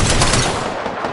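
Gunfire in Apex Legends during a close firefight: a loud, dense burst of rapid automatic shots, up close and continuous for about a second.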